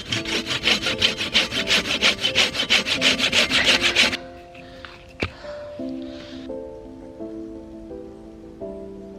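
A hand saw cuts through wood in rapid, rhythmic strokes for a few seconds, then stops; afterward a quieter tonal hum continues with a single knock.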